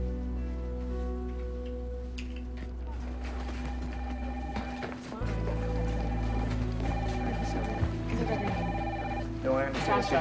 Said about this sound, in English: Phones have been ringing all morning.